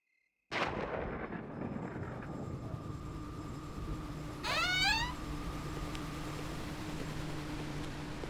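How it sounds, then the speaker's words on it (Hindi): Thunder breaks with a sudden sharp crack, then settles into a long, heavy low rumble that swells again briefly, accompanied by a rising whistling sweep in a horror drama setting. "लेकिन आज तो अपने यहाँ भी बादल गरज रहे हैं।"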